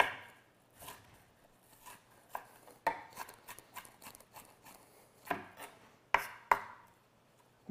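A kitchen knife mincing on a cutting board gives a run of sharp, close chops, irregular at first and then in quick bursts, with louder isolated strikes near the end and no talking.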